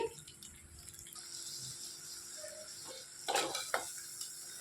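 A spoon stirs crab curry in a pan over a quiet, low sizzle, with soft scraping strokes and a few sharper clatters of utensil against metal near the end.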